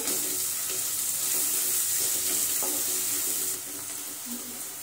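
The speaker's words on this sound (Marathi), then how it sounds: "थोडासा हिंग टाकून घेतलेला आहे आणि हे सर्व आपण 2 मिनिटं परतून घेऊ" Onions sautéing with a pinch of asafoetida in a pan give a continuous soft hiss of frying, faint and even, easing slightly near the end, with no speech.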